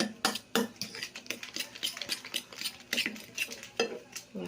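A utensil stirring dulong, tiny fish, together with egg in a bowl: close, quick scraping and clinking strokes against the bowl in an uneven rhythm with brief pauses, fairly loud and with no talking.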